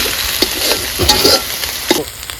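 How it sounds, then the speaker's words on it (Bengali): Spice paste with onion and green chili frying in a pan, a loud close sizzle broken by several scraping stirs of a spatula, with no voices. "আমরা মশলাটা কষিয়ে নিব"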